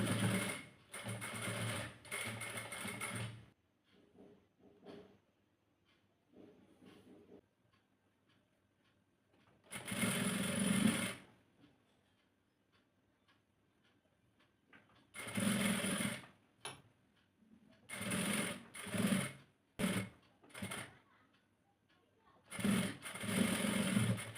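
A sewing machine stitching a baby frock runs in several bursts of rapid mechanical whirring and ticking, with quieter pauses between runs and faint handling noises in the gaps.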